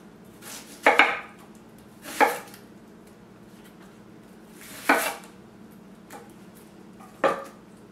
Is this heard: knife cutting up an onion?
yes